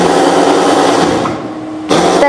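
A cotton wick making machine with needles runs steadily with a loud, whirring mechanical drone that drops away briefly and then picks up again.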